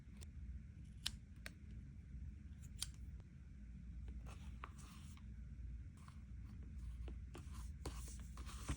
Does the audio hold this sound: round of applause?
no